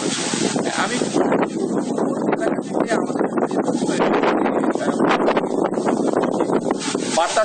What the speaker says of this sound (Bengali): খুলনা অঞ্চলে বাতাসের বেগ পড়া শুরু করেছে